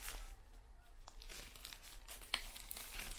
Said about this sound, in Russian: Ну и вот этот софт-тачевский полиэтиленовый пакетик.